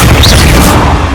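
Incendio fire spell cast in the Hogwarts Legacy video game, a loud, dense fiery burst with a deep booming body that roars steadily for about a second.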